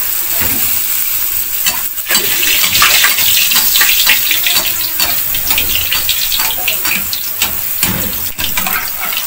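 Puri dough frying in hot oil, a loud continuous bubbling sizzle with sharp crackles and occasional utensil taps, no voices.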